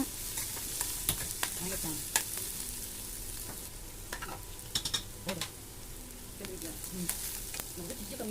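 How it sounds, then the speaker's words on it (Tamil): Chopped onions sauté in a pan with a steady sizzle while a spoon stirs and scrapes at irregular moments, close and moderately quiet with no talking. "இப்போ வெங்காயம் நல்லா வணங்கட்டும்"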